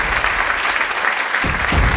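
Loud, sustained applause fills the house as a theater audience claps for Hamlet's solo bow in a Quill theater group performance, a dense roar of hands with a deeper rumble swelling toward the end.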